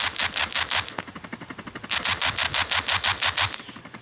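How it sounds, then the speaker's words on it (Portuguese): Rapid machine gun fire in a video game set in a favela, loud rhythmic bursts of evenly spaced shots with a brief pause before another long burst. "Ó os tiros"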